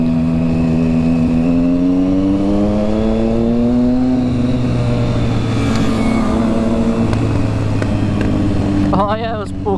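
Triumph Street Triple 675 three-cylinder 675 cc motorcycle engine roaring loudly and steadily up close, its pitch rising and settling in smooth sweeps, with another engine droning underneath and a short burst of talk near the end.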